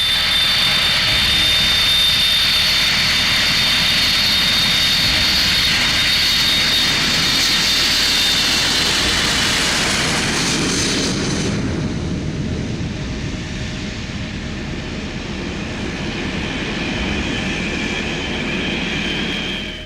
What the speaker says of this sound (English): thunder across the runway, 4 J-57 turbojets tearing the air in half and rattling the earth below